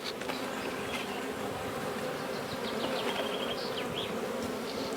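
A steady, dense hum of many honeybees from a healthy colony during a hive inspection, continuous and close, with faint higher buzzes of individual bees passing.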